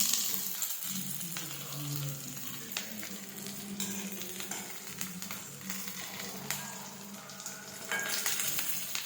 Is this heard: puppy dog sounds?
no